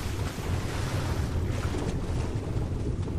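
Ocean water in the game Ark washes and rumbles steadily with a windy, surf-like roar, constant and fairly loud, with no voices.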